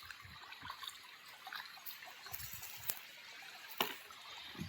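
Irrigation water trickles and gurgles softly into field beds. The flow is faint and steady, with a few small splashes and clicks, and there are no voices.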